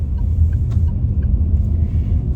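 A Proton X70 SUV driving through city traffic, its steady low engine and road rumble filling the cabin continuously and fairly loudly, with no talk.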